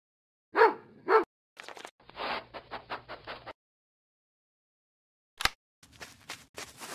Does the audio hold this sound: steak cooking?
no